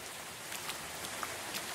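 Rain falls in the horror video game Kamla, a soft, even hiss of drops with a few faint brighter patters, continuous and quiet with no voices.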